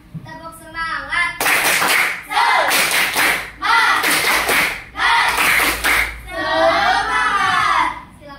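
Children clap together in bursts of rhythmic group hand claps, a cheer clap led in an Indonesian classroom, alternating with chanting voices between the clapping phrases.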